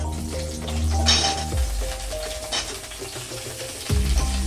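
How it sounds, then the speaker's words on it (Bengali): Potatoes and cauliflower fry in oil in a pan, with a sizzling hiss broken by metal utensil clinks and pan knocks, plus a low hum underneath; no one speaks. "ওই তেলে আমি আলুগুলোকে ভেজে নিচ্ছি আর ফুলকপিগুলোকে ভেজে নিচ্ছি।"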